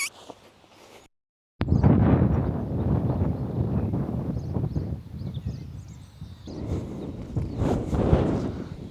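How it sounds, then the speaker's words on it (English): Strong wind buffets the microphone outdoors in loud, gusty rumbling roars that rise and fall, following a brief quiet moment and a sudden cut to silence. "Oh, it's definitely windy."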